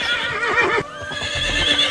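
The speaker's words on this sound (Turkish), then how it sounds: "Atlar dahi galeyana geliyor, şahlanıyor." Cavalry horses neigh loudly in repeated whinnies during a charge, with faint hoof clatter underneath, close and prominent throughout.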